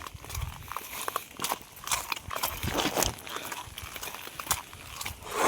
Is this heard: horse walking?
yes